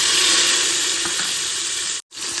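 Ginger, onion and tomato sizzle in a pan for an arbi curry, a loud continuous hiss that runs unbroken apart from one brief cut near the end.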